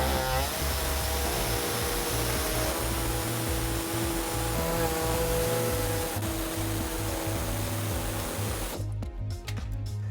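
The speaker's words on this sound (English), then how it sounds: "we're going to use an air saw and we're going to cut out this hole" A pneumatic air saw cuts a hole through the plastic underbody panel of a 2015 Toyota Sienna, a loud, steady buzzing drone running almost the whole time before stopping near the end.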